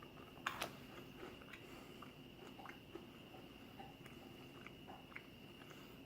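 Close, faint crunching and chewing of a chocolate-covered pretzel with bacon, a couple of crisp bites at first, then steady quiet mastication against a low background hum.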